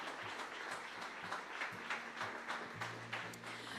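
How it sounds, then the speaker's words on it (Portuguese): Congregation applauding in a church service, a dense steady wash of many hands clapping throughout, moderately loud and continuous with no talk over it. "Dê uma grande salva de palmas ao Senhor."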